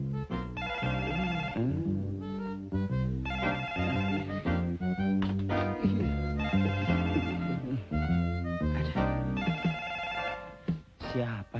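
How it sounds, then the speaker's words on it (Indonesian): A telephone rings late at night in a 1983 Indonesian comedy film scene, a loud repeated bell pattern in regular bursts layered over music and voices. "Siapa sih telepon masih malam begini?"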